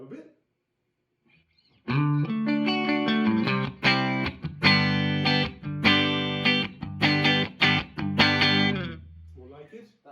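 An electric guitar plays chords and notes through the clean channel of a Laney LC 50 tube amp, bright switch off, no reverb, after a short pause, ringing with a slightly warm, driven edge; faint voice murmurs at the start and end.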